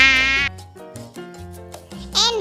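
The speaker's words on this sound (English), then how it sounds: "M for mosquito." A mosquito whines in a thin, steady, high-pitched buzz for about half a second. Light background music carries on after it fades.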